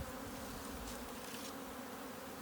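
Honey bees hum during a first hive inspection three days after a package install, a steady close, soft buzzing drone that carries on without a break and has no voices over it.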